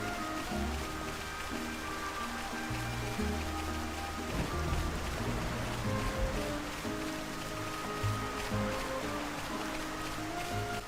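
Night rain falls over Satorl Marsh in Xenoblade Chronicles, a steady hiss spread beneath layered background music with sustained low tones.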